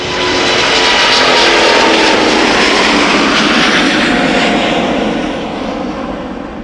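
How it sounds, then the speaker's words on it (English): A Turkish Airlines Boeing 777-300 in special UEFA livery, departing Amsterdam Schiphol, roars loudly and steadily with broad jet engine noise, easing slightly toward the end; no voices. "777-300 going back to Istanbul."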